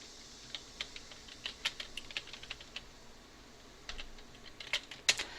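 Quick bursts of key taps on a computer keyboard during Illustrator type-tool work, light and close, arriving in short irregular runs with brief pauses and a few firmer strikes near the end.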